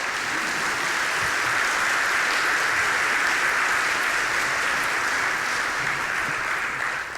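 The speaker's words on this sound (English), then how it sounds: "give her a round of applause" An audience in a church sanctuary gives a sustained round of applause, a dense, even wash of many hands clapping that holds steady at full volume throughout.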